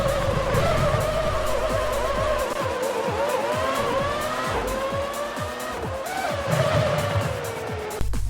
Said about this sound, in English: So that horrible noise was the cars actually slowing down